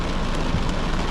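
Moderate to heavy rain pouring down during a South East Queensland storm, a dense steady hiss of drops with no break across the short stretch.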